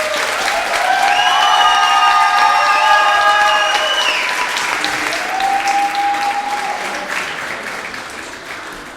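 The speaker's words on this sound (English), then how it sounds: "again, a round of applause" Sustained applause fills a hall at a 2016 UCLan students' union election results announcement, steady and loud with a few tonal sounds ringing above the crowd before the clapping tapers off.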